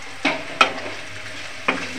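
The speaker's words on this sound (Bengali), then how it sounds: "নাড়িয়ে টাড়িয়ে ভালো করে ভেজে নেব পেঁয়াজটাকে" Onion frying in a pan for a lemon chicken curry, a continuous sizzle broken by three sharp scrapes of stirring, close and loud with no talk.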